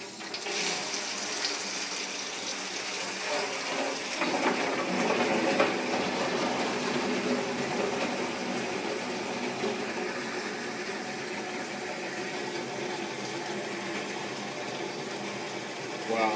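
Water under strong pressure from a pump-fed municipal line rushes steadily into a 5 gallon water jug, a continuous loud hissing gush that holds for many seconds, with the filling sound shifting slightly as the jug fills.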